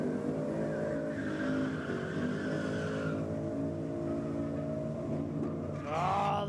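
A Ford Falcon VF drag car at a dragway spinning its rear tyres in a burnout, a loud continuous engine drone with tyre squeal, rising sharply near the end, heard from a distance.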